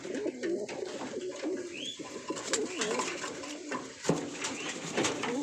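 Racing pigeons coo repeatedly at close range in a loft, with soft throaty calls layered over a steady background of bird noise and no talking.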